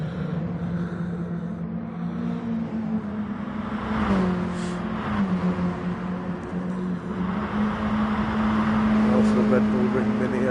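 Mini Cooper Cup race cars at the Red Bull Ring rev and drone on their out lap, the engine note rising and shifting in pitch at a steady middle distance beneath ongoing commentary.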